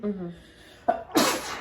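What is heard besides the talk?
sneeze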